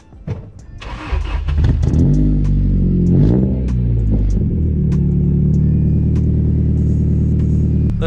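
A 1990s Honda Accord's H22 engine cranks and starts, revs up loudly, then settles into a steady, close idle rumble.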